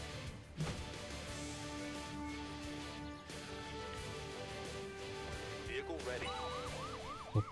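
An ambulance siren wails in Emergency HQ, a rising and falling tone emerging near the end over a busy background of game noise and traffic, moving away as the vehicle departs.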